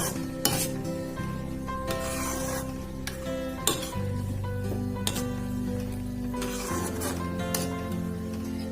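A spoon stirs makhana kheer with cashews, raisins and crushed cardamom in a pot, scraping and clinking against the metal in steady repeated strokes over a continuous low simmering hum, close and fairly loud.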